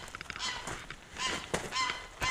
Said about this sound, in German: weil eigentlich haben wir nur noch eine Ente und zwei Gänse